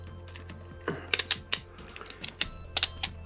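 Sharp, dry plastic clicks from the ratcheting joints of a Legacy Thunder Megazord action figure being posed by hand, a quick irregular series of close, crisp snaps with short pauses between them and no talking.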